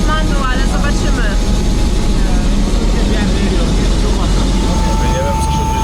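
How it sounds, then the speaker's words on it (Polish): Steady loud engine and rotor drone from inside a helicopter flying out of Lukla in the Nepal Himalaya, continuous throughout with people talking over it. "Jesteśmy w helikopterze."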